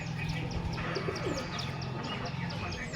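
Pigeons of a Punjabi fancy breed coo softly and continuously in a loft, a low steady murmur with faint chirps above it, close by and without talk.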